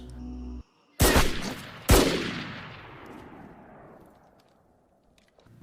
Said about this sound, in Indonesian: Kapolsek langsung memberondong peluru kepada Mansingh hingga tewas.